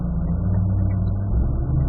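Corvette Z06 race car engine on a track at Spring Mountain, a steady loud low rumble held at even speed throughout, close and continuous with no talk.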